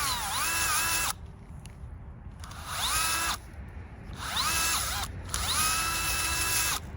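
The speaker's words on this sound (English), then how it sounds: "If you need to go drill a deeper hole, you have a lot of room to do that." A Power Planter auger drills into garden soil in several whining bursts of about a second or two each, loud and close, separated by short pauses with a low rumble; no talking.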